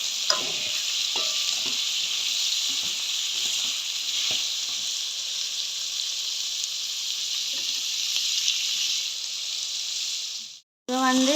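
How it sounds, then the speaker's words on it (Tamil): Tomatoes and onions sauté in a pan for a tomato egg rice dish, giving a steady, close sizzle with occasional stirring scrapes and clinks throughout, briefly cut off near the end. "நாங்கள் இந்த ஸ்டேஜில் வந்து தக்காளி பழத்தை போடுவோம்."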